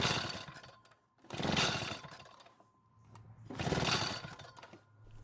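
A vintage Echo leaf blower is pull-started and fails to catch, giving two loud rasping recoil pulls separated by quiet gaps, close by with no engine firing.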